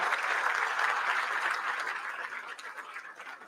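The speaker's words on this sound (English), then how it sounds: "Let's give them a round of applause." Luncheon audience gives a round of applause at a downtown Louisville event, dense clapping that gradually thins and fades into scattered claps over a few seconds.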